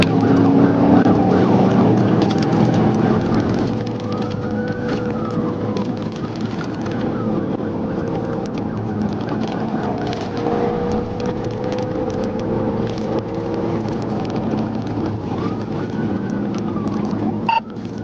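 A police car siren wails during a high-speed motorcycle pursuit, its rising and falling tone carried over a loud, steady rush of road and engine noise from the moving vehicle, continuous throughout with no voices.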